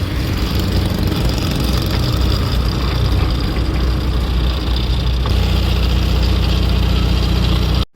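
A vehicle engine runs steadily and loudly up close as a dense, constant rumble and roar that holds for several seconds and then stops abruptly.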